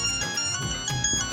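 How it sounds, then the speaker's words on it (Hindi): A mobile phone rings with a bright, repeating electronic melody, close and clear, in a Pakistani TV comedy scene, with no one talking over it. "अरे ये तो किसी जूजी का फोन है"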